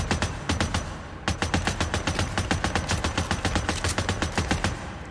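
Gunfire from a big gun in the zombie-survival game Days Gone: a steady, rapid stream of loud, close shots at roughly four or five per second, with one brief pause near the start.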